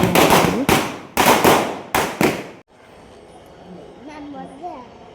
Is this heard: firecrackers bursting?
yes